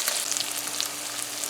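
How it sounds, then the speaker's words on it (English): Salted fish frying with onions in a pan, a close, continuous bright sizzle with crackling pops throughout. "now frying it with the onions a bit, you're going to toughen up the salted fish a bit so it will stay"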